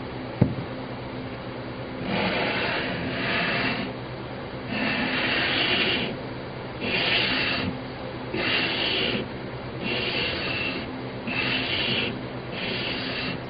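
Hand sanding by hand to smooth out disc sander scratches on a workpiece for a hydro reservoir build: rhythmic back-and-forth rasping strokes, about eight in a row, close and moderately loud, with no talking.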